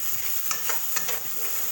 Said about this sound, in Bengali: এবার ওই তেলের মধ্যেই কেটে রাখা পেঁয়াজ কুচি, ধনেপাতা কুচি এবং আদা রসুনের পেস্ট যেটু রেখে দিয়েছিলাম সবটা দিয়ে ভালো করে ভেজে নেব